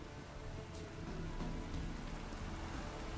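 Steady rain falling in The Witcher 3 Wild Hunt, a dense, even hiss of rainfall with scattered drop patter, continuous and fairly close throughout, with no voices present.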